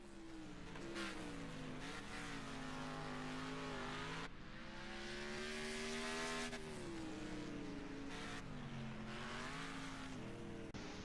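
A race car in a racing video game screams around a gravel track, its engine note rising and falling steadily with revs for the whole stretch, loud and close with no talk over it.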